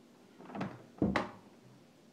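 A bathroom door swings open onto an outdoor shower at a St. Lucia cottage, giving two soft wooden thunks a half-second apart with a faint creak, heard close and alone.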